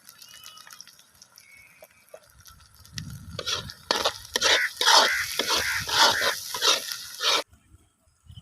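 Garlic paste frying in a pan for a village-style chicken liver pepper fry, starting faint, then swelling into a loud, close sizzle with rhythmic bursts of stirring before stopping abruptly.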